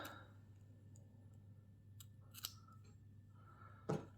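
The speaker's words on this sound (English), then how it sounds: "Now you can cut your yarn" Scissors snip crochet yarn in a couple of faint, crisp close clicks against a quiet room hum.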